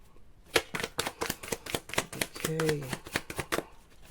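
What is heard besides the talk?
shuffling tarot cards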